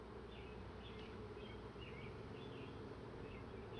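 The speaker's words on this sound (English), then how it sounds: "I might say that these are Italian bees." Italian honeybees buzz in a steady, dense hum, with a few individual bees droning past near the ear, no one speaking.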